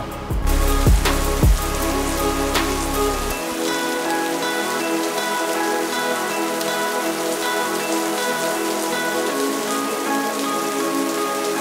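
Steady rain falls during a store opening, a dense continuous patter on surfaces that stays loud and even throughout, with a few brief tonal sounds near the start.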